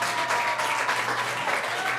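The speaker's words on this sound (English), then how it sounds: "Can we get a hand clap from outside of those of you that are helping with this?" An audience at a council meeting claps hands in sustained, loud, dense applause that fills the room evenly from start to finish.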